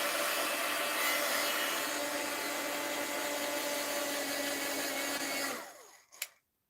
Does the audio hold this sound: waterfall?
no